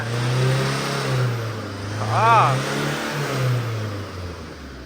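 A car engine with a misfiring second cylinder and a failing injector rumbles unevenly at idle, surging in short revs with a rough, shaking pulse, while someone talks nearby.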